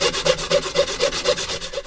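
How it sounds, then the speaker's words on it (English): Reclaimed pallet wood boards being cut to size, a steady back-and-forth rasping stroke repeating about four times a second, close and fairly quiet with no talking. "What I'm going to do is I am going to cut them all off to the sizes that I want and get them all sanded and graded."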